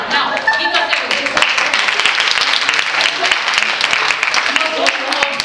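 A Toastmasters humorous speech contest audience claps together, dense and sustained applause filling the room, loud and close throughout with no break.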